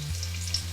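Pieces of chicken sizzle and crackle in hot frying oil with a steady, close hiss. No one speaks over the cooking.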